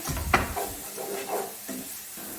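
Onions frying in a pan with garlic and ginger added, a soft sizzle with stirring and scraping of a utensil against the pan, close by, with no talking.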